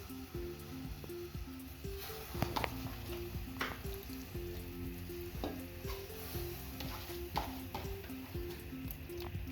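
A pot of boiling water bubbles and sizzles steadily while vegetables drop in with soft plops and light clatters, faint and continuous.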